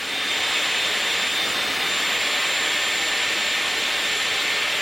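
A Dyson Airwrap hair styler blows air in a loud, steady, close-up whoosh that holds an even level throughout with no pauses and no voices.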